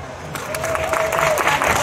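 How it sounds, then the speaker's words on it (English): Fans at a Comic Con Q&A session clap at a moderate level, scattered claps building into steadier applause with some faint crowd noise and a thin whistle-like tone mixed in. "We'll do the applause. So mediocre again."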